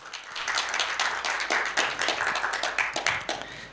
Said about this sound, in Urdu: ایک دفعہ پھر بہترین تالیاں بجائیں.